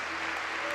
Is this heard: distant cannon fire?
no